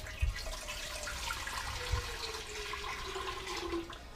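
Distilled water poured for pickling brine, a steady liquid stream with a couple of soft thumps and a rising pitch as the container fills, alone without talk.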